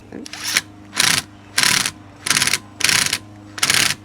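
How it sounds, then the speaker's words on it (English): A torque wrench ratchets a nut onto the mounting of an AMP Research BedStep2 side step on a 2017-2021 truck bed, giving six evenly spaced bursts of close, loud clicking. "I'm just gonna use my torque wrench right now just to get it started"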